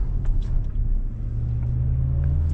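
A 2026 Cadillac Vistiq accelerates onto a highway, heard from inside the cabin as a steady low engine and road rumble.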